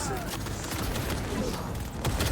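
Dense, continuous gunfire crackles through a noisy shootout in Cyberpunk 2077, with rapid overlapping shots and no pauses.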